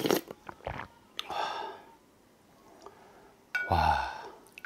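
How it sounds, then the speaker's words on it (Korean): Someone eats pork gomtang soup broth at close range, with soft chewing, slurping and mouth sounds in short bursts separated by quiet pauses, and a louder burst of eating near the end. "이거 곰탕 국물부터 먹어보겠습니다"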